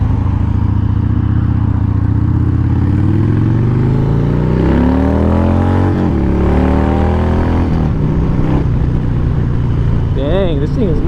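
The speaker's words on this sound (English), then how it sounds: "Harley Davidson lowrider. This is my buddy Yuan's bike. I believe this is the 88 cubic inch." A 2001 Harley-Davidson Dyna Low Rider with a stock 88 cubic inch engine and bolt-on bars and suspension, its low rumble rising and falling through gear changes while riding, with heavy wind noise and someone talking over it.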